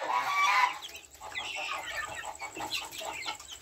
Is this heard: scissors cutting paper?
no